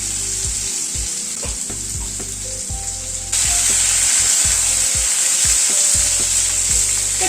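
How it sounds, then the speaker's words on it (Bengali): Boiled tender bottle gourd frying in a pan: a loud, constant hiss of sizzling oil with a run of dull knocks and scrapes from stirring, and the sizzle swelling louder partway through, close and without speech. "একটু নাড়াচাড়া করে নিলাম।"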